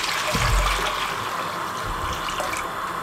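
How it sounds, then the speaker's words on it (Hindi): Water is poured from close by into a pan on a lit stove, a steady splashing gush that fills the whole moment and has no talk over it. "पैन ऊपर रख दें, पानी डाल दें, पानी को गर्म होने दें"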